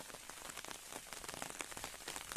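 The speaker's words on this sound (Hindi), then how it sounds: "देख सकते हो पानी के नज़ारा परसा पत्तवन में पड़े है पानी और बूंदा बांदी बजत भी हुई" Light rain patters steadily onto leaves outdoors in a village garden, a soft dense hiss of small drops with no voices.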